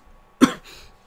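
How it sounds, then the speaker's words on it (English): A single short, sharp cough from a person recovering from illness, close and loud, followed by a brief softer throat-clearing exhale in an otherwise quiet room. "I still have a cough from me being sick."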